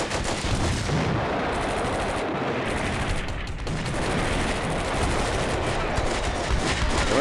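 Sustained battlefield din from the WWII tactical game Combat Mission: Beyond Overlord, with dense overlapping gunfire, machine-gun bursts and artillery blasts rolling on steadily with no pauses.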